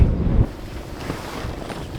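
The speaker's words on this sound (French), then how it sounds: "Le vent c'est horrible." Strong, cold wind buffets the microphone in a steady roar on a mountain, with a loud gust at the start and continuous rumbling noise throughout.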